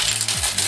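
Soviet-era metal coins are handled up close, giving a loud, brief jingle and clink of coins knocking together.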